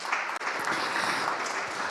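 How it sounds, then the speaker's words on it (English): A conference audience applauds the panelists in a steady, dense wash of clapping from many hands filling the room, continuous throughout with no talk over it. "let's give a round of applause to our panelists"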